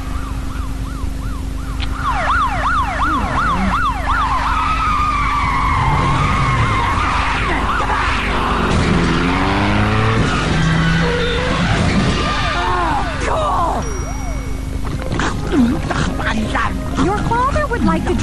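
Cartoon TV car chase blaring sirens with wailing rising-and-falling tones, screeching tire skids and engine roars, loud and continuous, with talk mixed in over the action.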